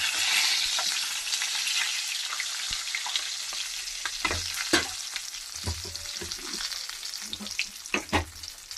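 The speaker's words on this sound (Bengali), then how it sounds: "গরম করে একটু ভেজে নেবো" Fish sizzles steadily in hot oil in a pan while being cooked with green banana, with intermittent stirring clatters and sharper pops over the continuous frying hiss, close and fairly loud.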